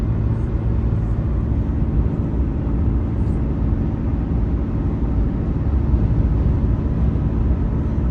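A Chevy 1500 pickup with the 3.0L Duramax diesel tows a snowmobile trailer under light acceleration, giving a loud, steady, low cabin drone of engine and road noise that holds constant throughout.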